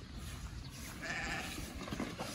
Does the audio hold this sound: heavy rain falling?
no